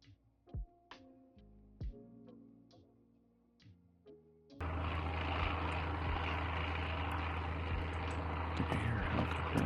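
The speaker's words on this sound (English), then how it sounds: "I think I hear a helicopter in the background." Scattered clicks and knocks come first, then a steady, droning helicopter engine in the game Surroundead sets in and holds at a constant level.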